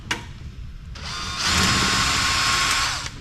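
Power screwdriver backing screws out of a big vintage traffic control system power supply unit, a close, steady mechanical whir that starts after a short click, rises around the midpoint and runs on continuously, with no talking.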